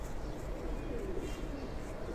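Young pigeons, one likely a female squab, give a steady, dense low cooing murmur that fills the short stretch evenly, with no voices.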